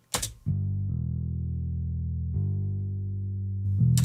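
A plain stock bass preset from the Kontakt library plays a few long sustained notes, steady and close, starting after a brief noisy click.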